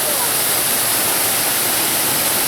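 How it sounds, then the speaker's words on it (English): Steady broadband rush of a waterfall on the indoor Delta river at Gaylord Opryland, a constant loud wash of churning water with no breaks, continuous throughout. "The waterfalls are not only pretty to look at, they serve as our river's main filtration system."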